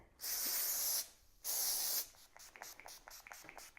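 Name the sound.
texturizing spray being sprayed on hair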